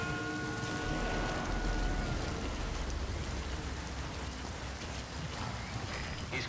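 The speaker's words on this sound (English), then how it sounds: "the rain is apparently going to mask my footsteps" Rain falls in the video game Metal Gear Solid V: The Phantom Pain as a steady, loud hiss of rain on surfaces, with a faint low rumble beneath it.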